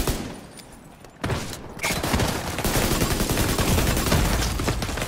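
A deployed turret in a video game opens fire after a quieter lead-in, settling into sustained, dense rapid gunfire that stays loud and steady to the end.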